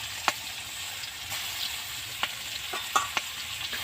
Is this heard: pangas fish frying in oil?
yes